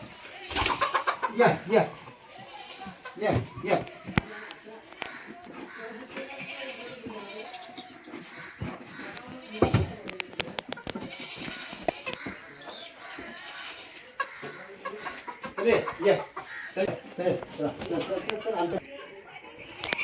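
Chickens clucking and squawking among other farm animals including sheep, with bleating and people talking over an outdoor village backdrop in Dapoli, Konkan.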